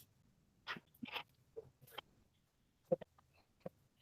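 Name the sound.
dog barking outside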